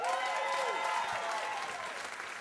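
Applause from a comedy show audience, dense continuous clapping with whoops and cheers rising from the crowd, steady and loud throughout.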